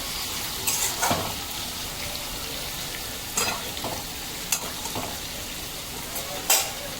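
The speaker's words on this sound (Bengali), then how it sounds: "একবার নেড়ে দেব।" Fish frying in mustard oil in a pan sizzles steadily, with several sharp stirring scrapes and clinks of the spatula scattered across it, close and fairly quiet.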